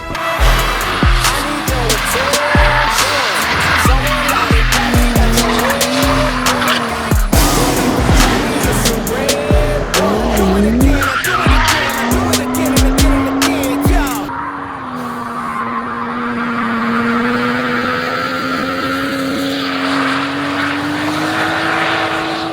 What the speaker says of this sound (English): for having an open diff and having a downpipe in a JB4, this thing slides really well